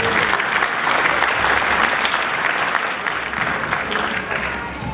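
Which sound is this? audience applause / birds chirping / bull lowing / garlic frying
audience applause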